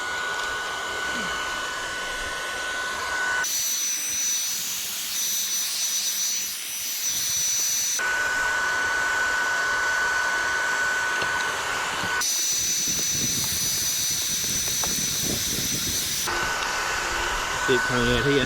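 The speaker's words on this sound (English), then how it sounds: "I've got the heat gun to try and put a bit of heat into it" A heat gun blows hot air onto a rubber inner tube, a loud steady whooshing whine close by that switches between two pitches in alternating stretches.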